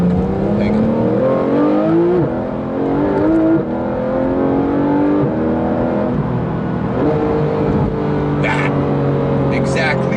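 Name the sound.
Porsche 991 GT3 RS engine accelerating hard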